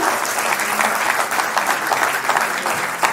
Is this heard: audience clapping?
yes